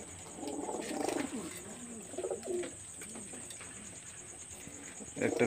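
Pakistani high-flyer pigeons in a Khulna loft coo in rolling bursts, strongest at the start and again near the end, with quieter gaps and a faint hum throughout.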